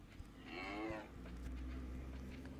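A cow in the game Minecraft gives one long, drawn-out moo, loud and close, over a low steady background hum.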